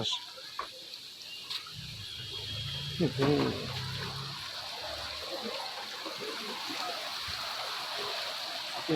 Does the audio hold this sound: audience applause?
no